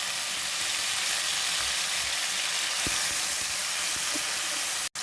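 Chopped onion and tomato fry in hot oil for a vegetable chow mein, a dense, continuous sizzling hiss with faint occasional taps, close and steady until it cuts off abruptly near the end.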